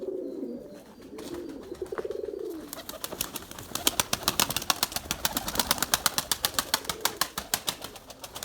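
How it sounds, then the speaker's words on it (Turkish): An Erzurum White pigeon coos briefly, then a long run of rapid wing flaps beats steadily and loudly close by. "Çok güzel kanat sesi var ya."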